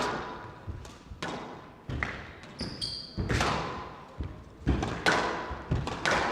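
Squash ball strikes during a fast professional rally at the Windy City Open, sharp thwacks off racket and walls landing every second or so in an irregular rhythm, close and crisp in an echoing indoor court.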